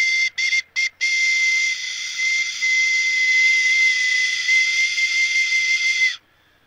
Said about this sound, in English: Last night I decided to make a whistle.